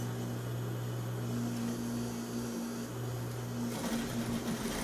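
Sewing machine running a half-inch seam around a pillow cover: a steady, close mechanical whir with a fast stitching rattle that holds for about five seconds and shifts slightly near the end.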